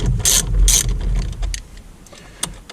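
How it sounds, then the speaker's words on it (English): A 10mm socket ratchet loosens the negative battery terminal on a Porsche Cayenne, giving a couple of quick close clicking pulls followed by faint metallic handling. "Is a 10mm socket. Once you get it loose, it should come right off."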